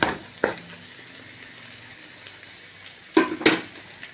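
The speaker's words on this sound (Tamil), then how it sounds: "நாம் இப்போது துருவி வச்சுருக்கிற வாழைக்காய் போட்டுக்கலாம்" Grated raw plantain dropped into a pan of softened frying onions, giving a couple of soft rustling hits and then a quiet, steady sizzle, with a second pair of sharper clatters near the end.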